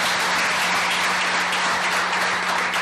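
A crowd at a corporate stage event breaks into loud, continuous applause, a dense, even roar of many hands clapping close by with no talking over it.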